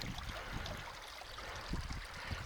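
A river flows beside a forest trail, giving a steady soft rushing wash with faint gurgles, moderately quiet and continuous with no voices.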